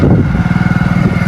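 A motorcycle engine running in second gear while the bike makes a U-turn, a steady close throbbing putter with a regular pulsing rhythm, loud and alone without talk.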